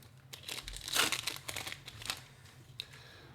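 Foil Magic: The Gathering booster pack wrappers being torn open, close-up crinkling and ripping bursts with a stronger crackling tear in the middle and a quieter rustle after it, with a low steady hum underneath.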